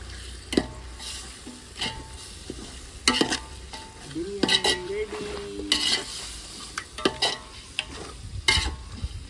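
Chicken coated in masala fries for a biryani, a steady sizzle broken by repeated sharp scrapes and clanks of a spoon stirring against the pot, with no one speaking.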